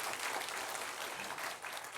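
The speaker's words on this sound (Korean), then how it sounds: "박수 쳐 주시고" Brief, steady applause from a church congregation during a Sunday worship service, dense soft clapping from a hall of people with no voices on top.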